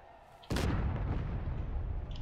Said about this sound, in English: All right, I'm firing right now.